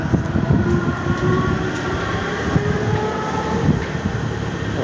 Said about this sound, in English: I'd have to pay to get on that train.